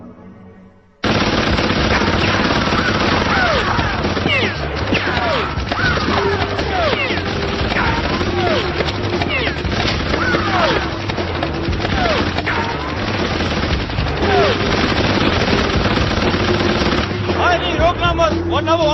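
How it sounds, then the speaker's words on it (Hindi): Sustained machine-gun fire and gunshot bursts from the animated action film Killer Bean Forever rattle loudly for nearly the whole stretch, with crashes and booms mixed in and brief voices heard amid the barrage. "वो यहाँ सब पर गोली चला रहा।"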